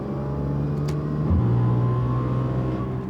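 A car engine with exhaust rasp hums steadily, then its pitch shifts as it revs with a raspy, rough exhaust tone, close and fairly loud.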